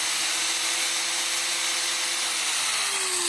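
An angle grinder spins freely without cutting, powered through an inverter, a steady high-pitched whine holding level the whole time, close by and alone.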